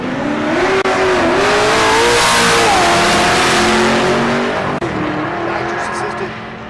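Drag-strip launch between an 81 Chevy Monte Carlo with SS front end and a nitrous-assisted LS Fox Mustang; loud sustained engine roar with rising revs and crowd-like wash, a commentator talking over it.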